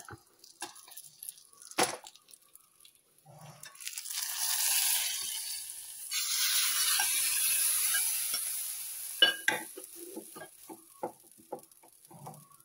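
Curry leaves drop into hot oil with popped mustard seeds for a sweet mango pachadi tempering, giving a brief crackling sizzle that swells and fades, framed by clinks and scrapes of a pan.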